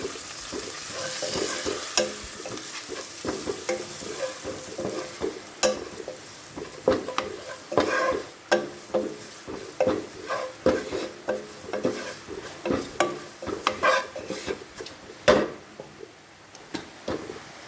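Kashmiri chilli powder and garam masala are stirred as they fry in a pan, with a steady sizzle broken by repeated scraping strokes of a spoon, close and clear, with no talking.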